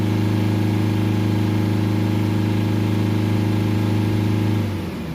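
A Mercedes E Class with a 2.1 engine idles steadily up close, a loud even hum with a low rhythmic pulse that drops and settles just before the end.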